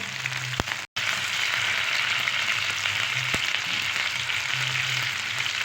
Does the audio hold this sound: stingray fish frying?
yes